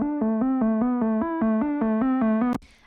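Synth stabs through an auto filter repeat in a steady rhythm, about a dozen evenly spaced bright hits alternating between two pitches, loud and alone, ending in a brief noisy burst.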